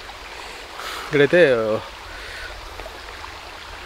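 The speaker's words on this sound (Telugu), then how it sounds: "ఇక్కడ వాటర్ వెళ్తుంది కదా, ఇక్కడైతే వాటర్ స్లో అయింది" A stream near Tada waterfalls flowing slowly, a soft continuous watery hiss running steadily beneath a brief spoken phrase from a man.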